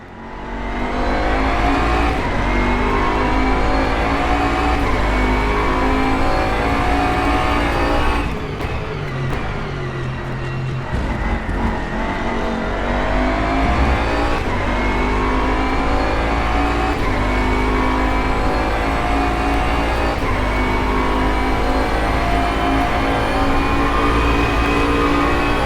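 A Bentley race car engine in rFactor 2 at Bathurst roars loud and steady throughout, with a brief dip and gear-change drop near the middle before the engine climbs back to a sustained high-revving drone.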